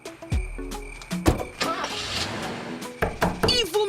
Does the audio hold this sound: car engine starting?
yes